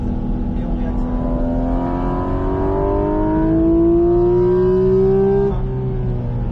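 A car accelerates hard on the Bresse race circuit, its engine note climbing steadily through the gear, loud and close, then easing off with a shift near the end.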